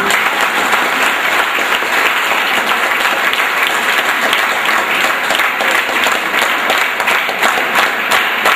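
Sustained applause from an audience fills a hall at a science writing and journalism workshop, a dense, even wash of clapping that stays loud and steady throughout with no talking.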